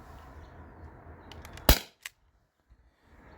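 A modified T4E HDP50 Gen 1 paintball pistol running on an HPA tank fires a 2.7-gram aluminum ball through a chronograph, giving one sharp, loud crack followed by a fainter click, with quiet room noise around it.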